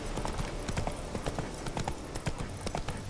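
Hooves of a wild horse in The Witcher 3 clip-clop in a steady, rapid rhythm, fairly close and moderately loud over a faint background.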